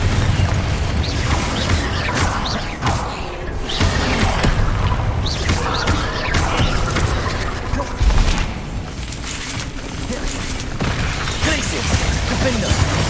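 Confringo fire-blast spells explode in the Hogwarts Legacy video game, a string of loud booming bursts amid busy combat effects, with a voice calling out spell names over the din.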